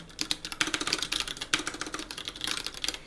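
Rapid, steady clicking of keys on a computer keyboard, close up and continuous with no talking.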